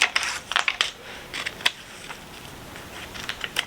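Transfer tape is peeled off the backing of a vinyl decal, giving a close run of crackling, tearing and sticky release sounds in short bursts. These are denser at the start and thin out toward the end.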